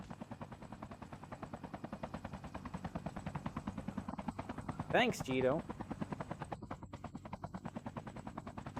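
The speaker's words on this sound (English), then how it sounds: "Helicopter." A video game helicopter, played on a Xiaomi Pad 8 Pro, chops steadily and rhythmically throughout, with a short burst of other game noise midway and a person speaking briefly.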